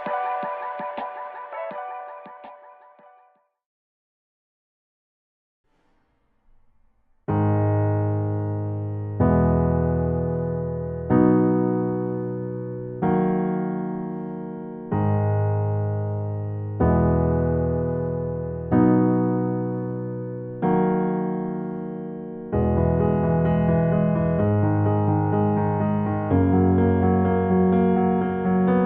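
A piano plays the verse melody of a song over steady chords, struck in even repeated phrases after a brief opening flourish and a few seconds of silence.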